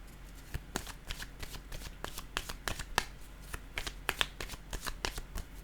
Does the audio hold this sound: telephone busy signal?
no